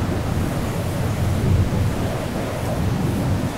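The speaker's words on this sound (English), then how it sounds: "And that's a dust storm." A dust storm in the video game Lifeless Planet makes a steady, loud rushing roar of wind, dense and continuous with a low rumbling underneath, no voices.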